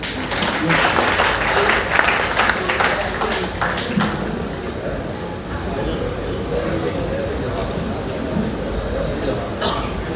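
An auditorium audience at a book launch in Agra claps loudly for Dr. Aruna Gupta for about four seconds, then the clapping gives way to a steady murmur and hall noise.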